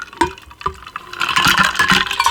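Ice cubes drop into a drink in a glass, giving a few sharp clinks and rattles followed by fizzy, splashy settling, close up with no talking.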